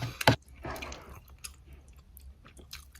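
Someone chews a mouthful of slightly wet, home-cooked rice, with a sharp bite at the start followed by soft, wet squishing chews that come close and fairly quietly.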